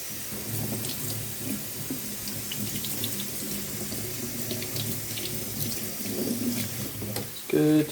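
Kitchen tap water runs steadily over lettuce being rinsed in a sink while preparing a classic beef burger, a continuous close splashing wash with a brief louder burst near the end.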